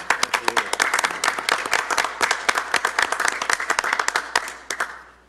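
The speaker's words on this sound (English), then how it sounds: "that deserves a round of applause also." A crowd claps steadily for several seconds, dense overlapping applause that tapers off and fades near the end.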